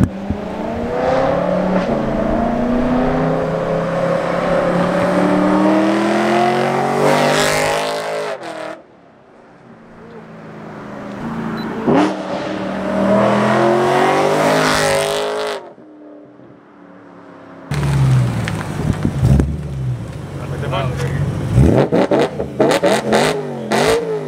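A 500 WHP manual BMW M4 on a canyon drive, loud and close, revving hard through rising pulls with shifts between them and two brief gaps where the sound drops out.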